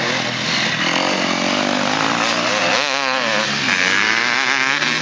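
Grasstrack racing motorcycles at full throttle, loud, continuous high-revving engine whine with rising and falling pitch as bikes pass close by.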